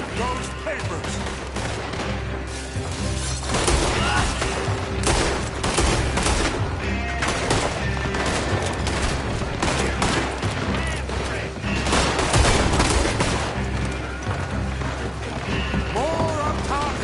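Gunfire in the western video game Red Dead Redemption 2 during a shootout: dense, continuous volleys of shots and bursts over roughly seventeen seconds, loud and close, with game voices talking over the barrage.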